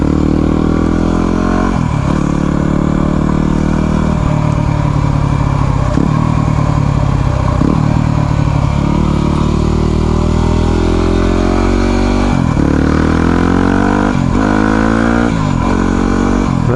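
A Yamaha WR250R motorcycle engine revs up and down through repeated gear changes, with a missed gear giving a sudden free rev, loud and close with a rising and falling rhythm.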